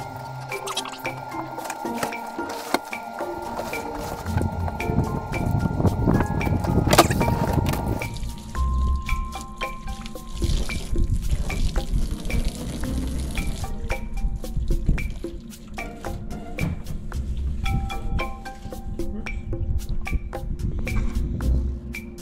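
Very hot water from a farm hose pours steadily onto rocks, a continuous splashing, dripping wash that sounds close and fairly loud throughout, with no talking.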